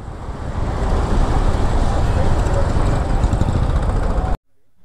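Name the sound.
many motor vehicles, traffic at meeting spot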